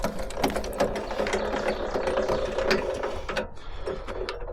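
Mechanical ratcheting and gear clatter from raising one side of a portable sawmill to level it, steady and close with repeated clicking throughout.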